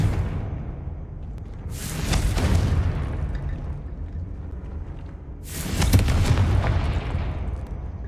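Two booming blasts from the Confringo spell in a Harry Potter-style video game, each a loud broadband burst with a whooshing tail, spaced about four seconds apart over a low rumbling background, with no talk.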